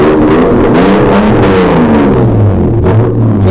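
A car engine revving hard, loud and close, a dense sustained roar with rising and falling pitch sweeps as the throttle is blipped, filling the whole stretch without pause, no talking over it.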